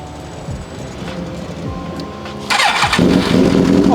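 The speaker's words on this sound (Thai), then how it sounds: "ลองมาฟังเสียงเครื่องยนต์ดู" A motorcycle engine, from a lineup of bikes like the Ninja 400 and Honda CB650F, CBR650F and CBR650R, cranks and fires up, then settles into a loud, close idle.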